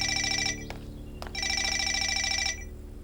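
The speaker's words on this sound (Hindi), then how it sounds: "फोन बज रहा है, जरा देखो कौन है।" A telephone rings in two loud electronic bursts separated by a short gap, each a bright trilling ring, with a couple of brief clicks in the pause and no talking.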